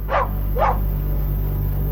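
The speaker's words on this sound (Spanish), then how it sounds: "Max ladraba sin parar cerca del maizal." A dog barks twice in quick succession as a sound effect in crime narration, two sharp close barks over a steady low hum, with no talk.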